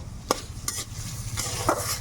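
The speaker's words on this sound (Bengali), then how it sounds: "রসুন, পেঁয়াজ আর লঙ্কা ভালোভাবে ভেজে নেব" Garlic, onion and chili frying in oil in a wok for vegetarian fried rice: a soft sizzle under three or four quick, sharp spatula scrapes and clacks, close by and without speech.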